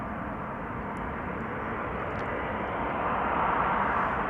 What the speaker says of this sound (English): KLM flight 758 touching down, arriving from Panama City, 787-10 Dreamliner